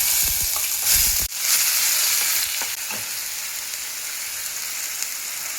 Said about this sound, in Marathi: आता त्याच्यामध्ये वाटलेला मसाला टाकून घेऊया आपण